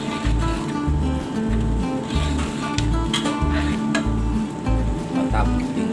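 Cooking oil sizzles steadily in a large pan while trakulu fish is prepared in a sour-spicy dish for a big crowd, under a loud pulsing low rhythmic thump of background music.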